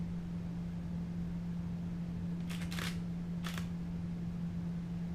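A Nikon D5600 DSLR fires its shutter, with two or three quick mechanical clicks close together midway through, faint over a steady electrical hum.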